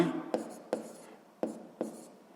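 Pen strokes scratch out a math calculation on paper in a quiet room, with four distinct taps and short scrapes at an uneven rhythm.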